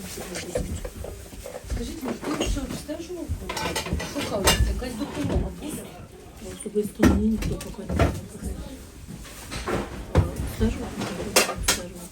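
Dishes clatter and clink in quick irregular bursts, close by, mixed with people talking, in a house damaged by a missile and drone attack in Khmelnytskyi region, Ukraine.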